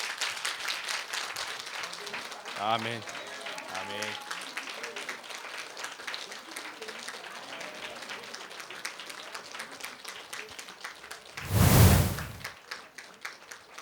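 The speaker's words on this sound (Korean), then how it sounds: "다 일어나셔서 박수로" A church congregation rises and claps together, a quick scatter of hand claps mixed with voices saying a short response, then a louder burst of sound near the end.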